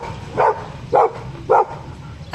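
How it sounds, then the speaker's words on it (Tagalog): A loose pet dog barks three times in short, evenly spaced bursts, fairly close and loud, with a low rumble of background noise between the barks. "Ay, nakawala ang aso namin."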